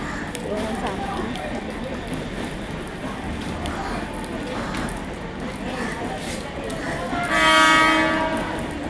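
A train rumbles steadily past near Thane station, beside a school, with continuous rolling noise, and a horn sounds loudly near the end.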